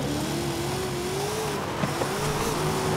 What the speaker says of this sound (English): This Hoonicorn, though, that Don Juan made rips.